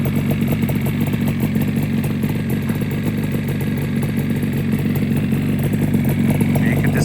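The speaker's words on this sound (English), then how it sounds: "it would sit here and idle all day," A restored 1976 Yamaha RD400 two-stroke motorcycle idling close by, with a loud, steady, slightly uneven burble and mechanical clatter that holds for several seconds.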